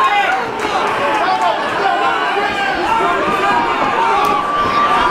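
A crowd at an amateur Blackout Fighting Championship bout roars and chatters steadily, with shouts and cheers rising over the din and commentators talking throughout.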